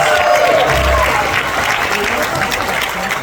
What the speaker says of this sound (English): please let's give Mr. Martin Short a big round of applause